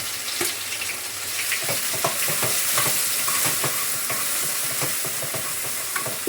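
Cumin, crushed garlic, homegrown curry leaves and onion sizzle loudly in a pan, a steady dense hiss broken by scattered stirring clicks and scrapes.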